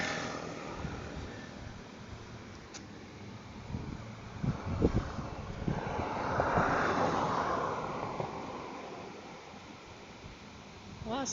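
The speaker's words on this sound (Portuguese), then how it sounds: "Olha a cachoeira." A waterfall formed by the Atuba sewage outflow, a steady rushing wash of falling water that swells in the middle, with faint low voices now and then underneath.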